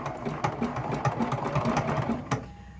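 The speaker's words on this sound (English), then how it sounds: "Now we can come back and sew in the opposite direction" Sewing machine stitching bias tape onto a quilt top, a steady rapid mechanical whir with rhythmic ticking, close and moderately loud, stopping near the end.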